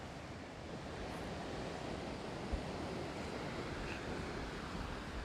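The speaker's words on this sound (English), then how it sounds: "Hear the waves." Ocean waves wash continuously onto the shore of the Azores islands in January, a steady broad roar of surf with some wind, heard without any talking.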